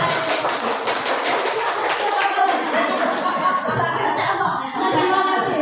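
Audience in an Indonesian classroom or workshop session clapping their hands, a dense continuous patter of applause at steady volume with some voices and light laughter mixed in.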